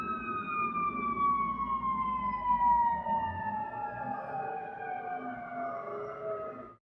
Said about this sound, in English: Do you guys hear these sirens in the background?